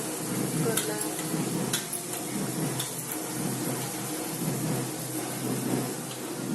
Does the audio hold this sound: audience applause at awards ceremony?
no